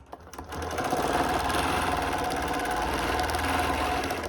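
A sewing machine stitches a pieced prism quilt, starting with a brief stutter and then settling into a fast, even, close mechanical whir that continues without talk.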